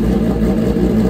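A Suzuki GSX-R 1000 sport motorcycle at a nitrous grudge-racing facility holds a loud, steady low engine drone throughout, close and continuous without any clear rise in revs.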